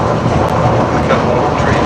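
A steady, loud rumble inside a Disneyland Monorail train cabin as it runs along the track, with no distinct clicks or breaks.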